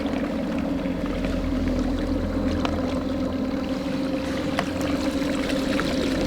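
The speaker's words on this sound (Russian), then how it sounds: "Электромоторчик работает отлично." A small battery-powered electric motor pushes a fishing boat through reeds, giving a steady low hum with a faint whine over lapping water, close and continuous with no speech.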